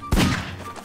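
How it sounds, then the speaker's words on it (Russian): A Counter-Strike bomb goes off in the Garry's Mod video game, one sudden deep thump with a short decaying rumble, loud and close. "Сейчас начнут эти бомбы с Counter-Strike взрываться."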